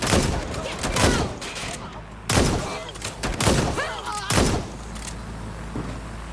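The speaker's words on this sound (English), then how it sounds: "Gunfire over here!" Repeated gunfire in the video game Watch Dogs Legion, several loud sharp bursts spaced about a second apart over a busy, noisy game background.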